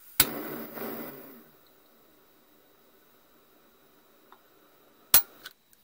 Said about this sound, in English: when you heat it, it goes boink and it pops